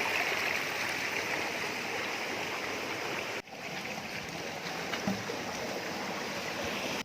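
Steady, dense rush of water at the Khao Chamoi waterfall, a continuous close roar of the stream tumbling over rocks with no voices.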